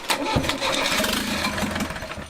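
A mid-sized motor cranks and catches, then runs with a steady, rough putter, fairly close and loud for a couple of seconds.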